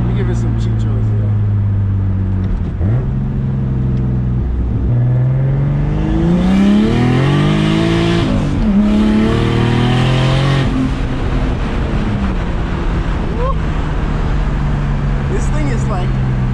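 A turbocharged BMW E30 with an M50 engine revs repeatedly, its pitch climbing and falling over a loud steady idle heard from up close, while someone talks over it.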